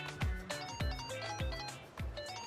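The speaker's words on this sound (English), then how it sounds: "is that your phone?" A phone rings in the video game Infinite Wealth, four evenly spaced electronic ring bursts with a bright, repeating tone, moderately quiet and alone.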